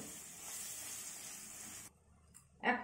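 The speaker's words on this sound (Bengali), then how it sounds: "সব আমি একসঙ্গে মশলাগুলো কষে নিচ্ছি, এভাবে মশলাগুলো কষে নিতে হবে।" Spices and a slit tomato being fried and stirred together in a pan for a prawn and green jackfruit curry, a steady sizzle and hiss that cuts out, then a brief louder scrape of stirring at the end.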